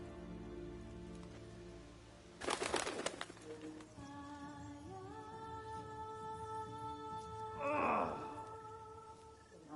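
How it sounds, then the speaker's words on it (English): Pigeons or doves coo in the Witcher 3 video game, with soft repeated calls over layered tonal game ambience and a rustling flutter or two in between, moderately close and without speech. "That bird was on the tree."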